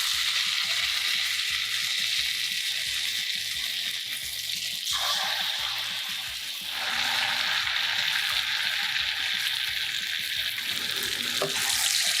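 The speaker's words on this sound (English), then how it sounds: "shape into rounds and fry until golden brown" Flour-based rounds of food frying in oil in a pan, a continuous dense sizzle that dips briefly midway and then resumes at full strength, with no speech over it.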